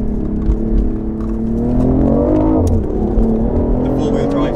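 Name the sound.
BMW i8 accelerating hard with electric e-boost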